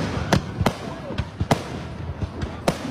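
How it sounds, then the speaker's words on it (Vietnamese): Fireworks bursting at a 2023 New Year celebration, a series of sharp loud bangs spaced irregularly over a background of crowd murmur. "Tiếng pháo đầu tiên đã vang lên"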